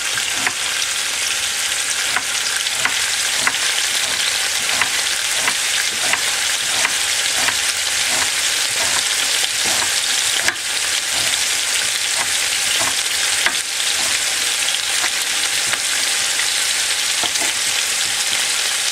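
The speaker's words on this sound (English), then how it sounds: "you can hear some ribs start cooking and changing the color" Short ribs sizzle steadily in a hot pan with onion, a constant loud crackle and hiss with faint stirring scrapes and no talking.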